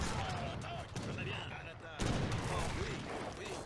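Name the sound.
musket gunfire in Age of Empires III video game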